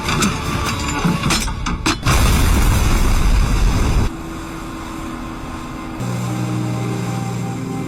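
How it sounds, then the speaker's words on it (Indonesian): A film explosion beside a river: a loud, broad roaring burst with crackling debris that holds for several seconds, then drops to a steady lower rumble with a faint hum returning near the end. "Lin selamat dari tragedi ledakan barusan,"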